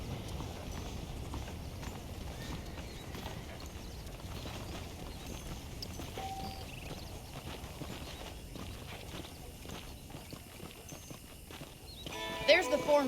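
Horse hooves clip-clop at a steady walking rhythm in the Western game Red Dead Redemption, a continuous moderate patter under a talking voice, with a brief louder burst near the end.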